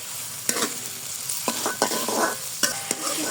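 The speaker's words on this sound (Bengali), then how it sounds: "খুব ভালো করে ভাজা ভাজা করে নেব সব কিছু" Onion, tomato, ginger and green chilli frying in a wok, a steady sizzle broken by several sharp scraping stirs of a spatula, close and clear. No talking.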